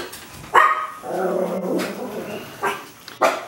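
A dog barks a few times up close, sharp yips and a longer growly bark-howl in between, loud and alone without talk.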